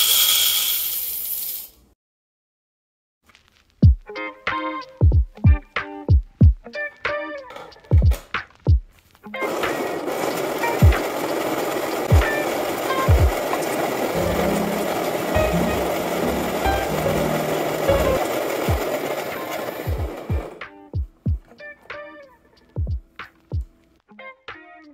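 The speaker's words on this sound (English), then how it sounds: "So to start off, you want to grind your coffee beans." Coffee beans are ground to a medium coarse grind, a loud steady grinding roar lasting about ten seconds, framed by sharp knocks and clunks of handling the grinder before and after.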